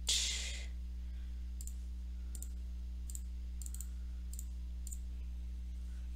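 Light plastic clicks from buttons being pressed on a TI graphing calculator, about six evenly spaced taps, faint and close over a steady low hum, with no talking.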